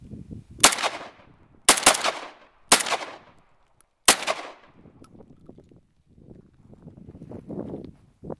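A Molot Vepr 12 shotgun fires four loud, sharp outdoor blasts spaced about a second apart, each trailing off in echo, followed by quieter handling noise and rustling.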